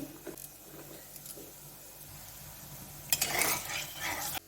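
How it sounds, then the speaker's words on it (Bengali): Red lentil fritters hit hot oil, a bright, crackling sizzle bursting up near the end after a few soft clinks and stirring scrapes, close and steady with no voices. "তেল গরম হয়ে গেছে আমি দিতে আরম্ভ করে দিয়েছি"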